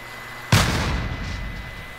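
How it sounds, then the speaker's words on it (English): A single loud grenade explosion in Call of Duty Modern Warfare, a sharp close blast that rumbles and decays over about a second and a half, with no talking. "Grenade out!"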